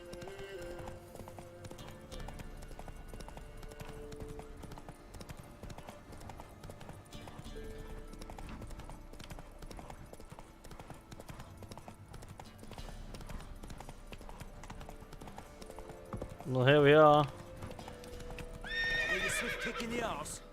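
Horse hooves clopping on a bridge in The Witcher 3: Wild Hunt, a quiet steady clip-clop beneath game ambience, followed by a sharp neigh near the end. Someone speaks briefly.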